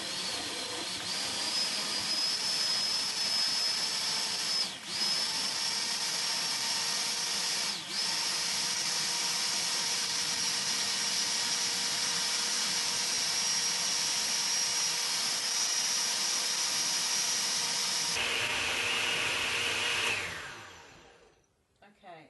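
A blender runs steadily on a green juice mix with added water, a loud, continuous motor whir lasting about twenty seconds before it cuts off and winds down.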